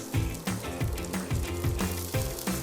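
Sausage browning in a hot pan for white bean soup with kale: a loud, steady sizzle close by, broken by repeated scraping and knocking as the pieces are turned, with no voice.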